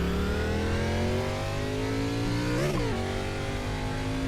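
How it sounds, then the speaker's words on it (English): A next-gen NASCAR-style race car engine in iRacing revs and accelerates loudly up through the gears, a continuous roaring whine with a brief dip and surge near the middle, no voices. "Recorded sounds from the brand new next-gen cars in iRacing."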